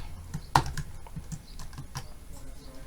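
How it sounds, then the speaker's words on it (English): Fingers tap on a computer keyboard while coding a Java timer program, a short burst of quick, close clicks with one sharper keystroke near the start, no voice over it. "by typing like this"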